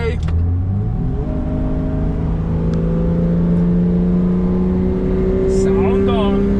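Nissan Patrol 4800 VTC Super Safari engine cruising on the highway, a steady droning hum that rises gradually in pitch as it pulls, with road noise throughout and a person talking over it.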